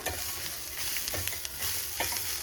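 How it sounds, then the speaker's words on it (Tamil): Grated coconut and spices dry-roasting in a pan for a chicken salna masala, stirred with a steady scraping rhythm over a soft continuous sizzle, close and fairly quiet with no talking. "தேங்காயும் சேர்த்து நல்லா கொஞ்சம் நேரம் வறுத்துக்கலாம்"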